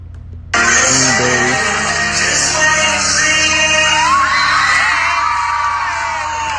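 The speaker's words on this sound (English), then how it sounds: "You can hear the crowd." A crowd suddenly erupts into loud cheering, whooping and shouting that stays dense and sustained, with individual yells rising above the roar.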